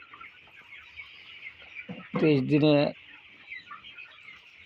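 On a poultry farm, 23-day-old broiler chickens murmur softly as a flock, then one bird lets out a loud burst of clucking close by; someone speaks briefly over the flock.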